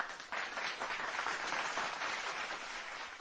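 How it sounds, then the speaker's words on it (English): Sustained crowd applause from an audience at an insurance adjuster event, steady and dense clapping filling the whole stretch with no talk over it. "can we get a round of applause for that?"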